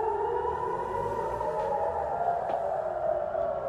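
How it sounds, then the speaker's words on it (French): Air raid alarm sirens in Israel sound one after another, a steady, distant, sustained wailing tone that fills the whole stretch without pause. "Les sirènes d'alarme retentissent les unes après les autres en Israël."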